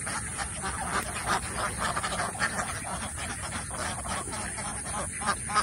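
Ducks on a duck farm quack constantly, a dense chorus of many overlapping calls from nearby, steady and fairly loud, with faint voices in the background.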